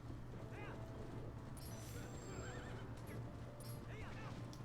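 Epona the horse whinnies repeatedly in The Legend of Zelda: Twilight Princess, with galloping clip-clop hooves and steady in-game ambience beneath, several neighs spread across a few seconds.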